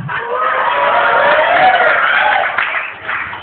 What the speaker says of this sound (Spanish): Un aplauso para Ávila.